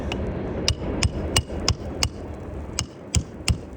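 A nail gun firing fasteners into a roof, about ten sharp, evenly spaced thwacks over a low steady background, close and distinct.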